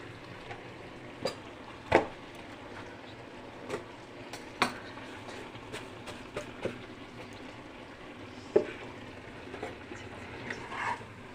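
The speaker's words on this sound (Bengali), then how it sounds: "ভেন্ডিটা দিয়ে একটু নাড়াচাড়া করে নিলাম" Okra curry stirred in a pan gives quiet, intermittent clinks and scrapes of a spoon against the metal over a soft low background, with a few sharper knocks spaced out across the stretch.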